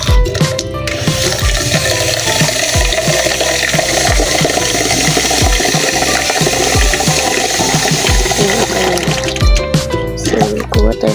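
Running water rinsing a dirty squishy toy after soaping, a loud, continuous splashing and gurgling stream close up with scattered drips, no voices over it.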